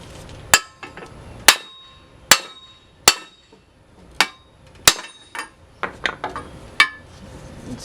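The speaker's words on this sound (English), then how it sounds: "I'm going to use a 30mm socket and a hammer." Sharp metallic hammer blows on a 30mm socket, pressing out a wheel bearing on a Ford Fusion or Mercury Milan, ring out one at a time at an irregular pace, loud and close, with small clinks in between.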